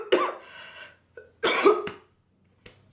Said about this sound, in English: Had me coughing and everything.